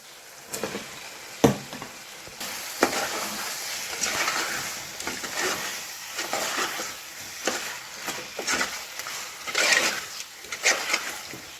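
Potatoes fry in spiced oil in a pan, giving a continuous close sizzle broken by frequent scraping and clanking stirs at an uneven pace, with no talk.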